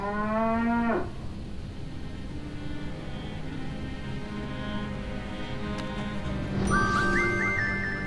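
A cow in the Sam & Max game lets out a long, loud moo, then another moo with a wavering rise comes several seconds later over quiet background.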